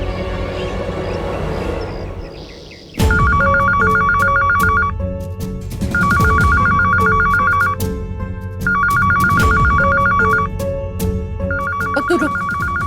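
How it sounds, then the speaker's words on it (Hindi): A telephone rings in repeated electronic trills, three long bursts with short gaps between them, loud and clear over a dramatic musical backdrop with no talking. "यार खुशी, फोन उठा।"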